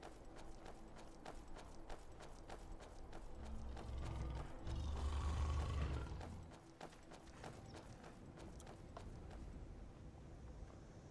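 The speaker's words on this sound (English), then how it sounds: "You have pretty heavy footsteps there" A heavily armored companion, Dwaylen, walks in Skyrim, his footsteps a steady run of dull thumps close behind under quiet game ambience.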